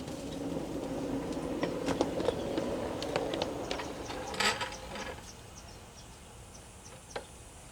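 A model train runs down a small downhill section of track with faint rolling hum, light clicks and a few squeaky brake and wheel scrapes, quiet and close.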